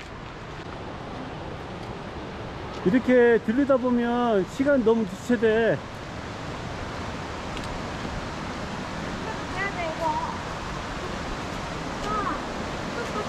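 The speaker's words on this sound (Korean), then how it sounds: "물소리 장난 아니네 여기 아침에." Roaring water of Vernal and Nevada Falls in Yosemite in the morning, where two streams join, makes a steady loud rush throughout, with someone speaking briefly over it.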